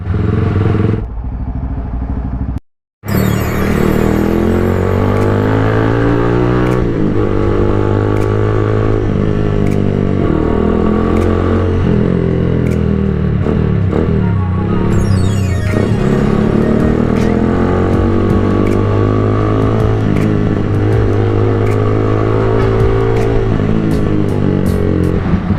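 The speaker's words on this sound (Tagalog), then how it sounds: "Umaga, traffic ang kabilang lane." Morning road traffic in Las Piñas, with a loud, close motorcycle engine droning and revving throughout alongside passing vehicles, clatter and thumps, broken briefly by a short gap near the start.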